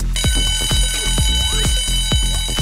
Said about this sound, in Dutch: dan hoor je harde alarmbellen door het hele schip